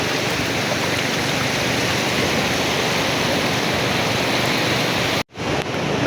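Rather rough sea waves at Immaculate Beach in Lian, Batangas, a broad continuous wash of surf and wind-like rush, loud and unbroken except for a sudden brief cutout near the end.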